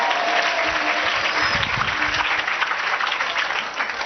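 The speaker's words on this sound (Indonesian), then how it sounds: "Tepuk tangannya buat Faisal" An audience at a religious talk by Ustadz Yusuf Mansur breaks into loud, dense applause for Faisal, a steady wash of clapping that holds throughout.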